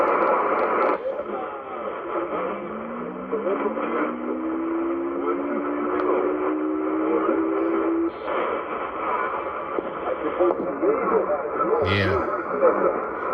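Interference heard on a Sony shortwave radio receiver, one of an ICF-2010, ICF-SW77 or ICF-6800W, as a steady hiss and hum with a rising whistle-like tone sweeping upward midway, plus a brief burst near the end.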